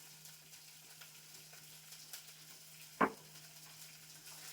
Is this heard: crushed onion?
yes